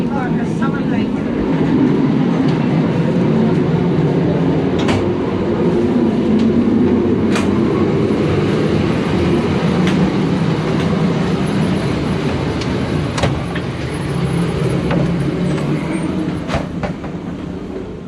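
Continuous rumble and rattle of a heritage train whose 1930s carriages roll along the rails, heard from inside with steady clickety-clack and sharp periodic wheel clicks over a dense low roar throughout.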